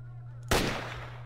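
A single loud gunshot from S.T.A.L.K.E.R. Shadow of Chernobyl cracks out close by and rings off in a decaying tail over a steady low hum.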